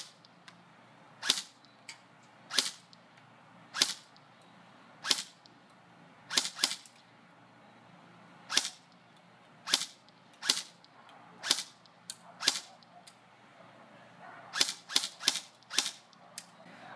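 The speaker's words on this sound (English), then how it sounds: "While I'm shooting, I like to keep my thumb about here while I'm semi, and then I'll flip it into full auto sometimes." An Echo1 VFC XCR airsoft rifle fires sharp, snappy shots, mostly single semi-auto pops spaced a second or so apart and ending with a quick cluster of rapid shots, clear and close in a quiet setting.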